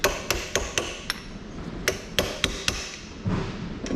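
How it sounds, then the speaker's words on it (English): A hammer lightly taps bolts threaded into a connecting rod end cap to remove it during prep of a 2234cc engine. About a dozen close, sharp metallic taps come at an irregular pace, with no speech. "and then we lightly tap the bolts to remove the end cap"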